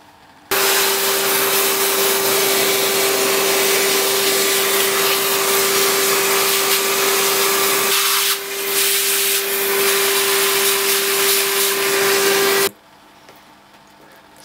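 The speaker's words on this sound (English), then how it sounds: "I hoovered off all the loose bits" A vacuum cleaner hoovers loose debris off an old Lyrec SM motor from a disc-cutting lathe. The loud, steady whine with a high tonal hum runs continuously, dips briefly midway as the nozzle shifts, then cuts off abruptly.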